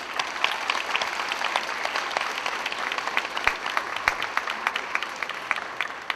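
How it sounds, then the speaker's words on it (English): Applause at an adult school graduation ceremony, a crowd clapping steadily in a large hall with many distinct individual claps standing out, moderately loud and sustained without pause. "give your families and teachers a round of applause"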